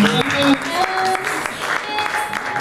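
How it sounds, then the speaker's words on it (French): A church congregation at a prayer and deliverance service breaks into steady, loud applause that fills the room, with voices calling out over the clapping. "est-ce qu'on peut applaudir pour notre Dieu?"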